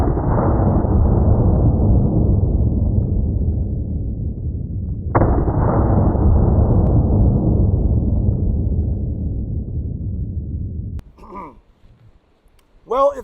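Two loud 9mm gunshots fired through a wooden muzzle brake, each a sharp blast with a long ringing decay, followed by brief speech at the end.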